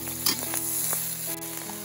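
Cauliflower with cured pork and garlic sizzles loudly in hot oil in a wok, with bright crackling spitting and the scrape of stirring, close and continuous.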